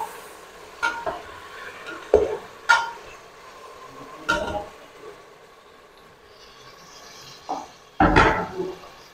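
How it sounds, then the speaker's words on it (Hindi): Chicken fries in a pot under a soft sizzle, broken by several loud, separate clanks and scrapes of a spoon against the pot, close up and with no voices. "तो अब हम इसमें चिकन ऐड कर देंगे। और इसको हमें अच्छी तरह से फ्राई कर लेना है।"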